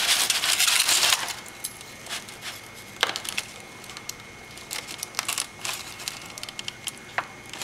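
A knife working into the end of a cooked brisket, a brief rustling burst followed by sparse, close, light clicks and taps of the blade against the board, fairly quiet with no talking.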